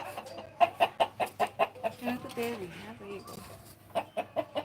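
A chicken clucks in a quick, steady series of short calls, fairly close, on a rooftop terrace, with a person speaking briefly in the middle.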